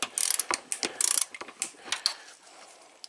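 Ratchet clicking in quick bursts as a cam bolt is loosened on a VW Passat 1.8T engine, sharp close metallic pawl rattles with short pauses between strokes.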